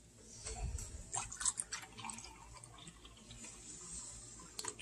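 Spoon stirring milk into bacon gravy in a pan on the stove, soft wet sloshing and a few light clinks of the spoon against the pan, faint and close.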